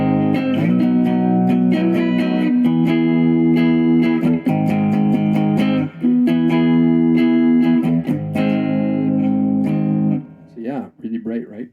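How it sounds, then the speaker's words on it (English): A Squier Bullet Mustang electric guitar in a bright clean tone plays sustained chords with some single notes, loud and close, ending in quieter picked notes. "So let's just do the clean sound."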